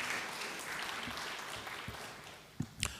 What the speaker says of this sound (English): Let's clap our hands together for him.